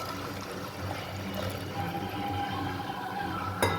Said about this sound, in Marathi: यात थोडंसं पाणी ओतून घेणार आहे बघा